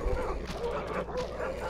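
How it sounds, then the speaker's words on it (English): A pack of polygonal Rottweilers in the trench shooter Iron Storm bark and yelp in quick, fairly quiet bursts during an attack, with some talk mixed in. "I have been mauled by a pack of polygonal Rottweilers."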